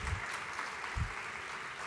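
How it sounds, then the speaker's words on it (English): Audience applause from a crowd at a National Association of Black Journalists convention, a short burst of steady clapping with a few low thumps. "You can clap."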